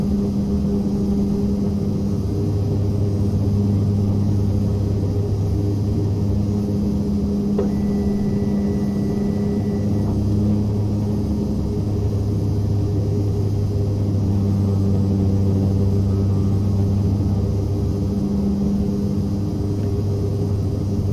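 Turbo Commander 690B turboprop in X-Plane 11 on a landing approach, a steady loud engine drone with low rumble and cycling tonal hum, unbroken throughout with no talk.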